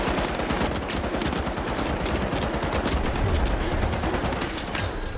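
An LMG machine gun fires continuously in the video game The Finals, a dense, loud, sustained burst of automatic gunfire that fills the whole stretch, with other game noise mixed in.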